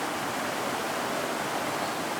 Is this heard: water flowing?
yes